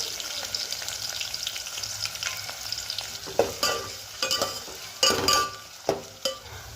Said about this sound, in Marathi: आता मी याच्यामध्ये कांदा ॲड करते आहे